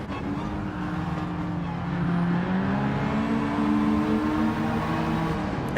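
A radio-controlled Toyota Corolla race car drives at a night race meet, its high-pitched electric motor whining and rising in pitch as it speeds up, with steady track noise around it.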